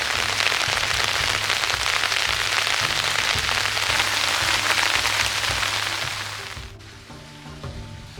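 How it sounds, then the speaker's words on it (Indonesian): Heavy rain pours onto a shelter in a forest, a loud, dense and continuous hiss that eases and thins toward the end as the downpour lets up. "Dan tidak membutuhkan waktu yang lama, hujan pun kembali turun."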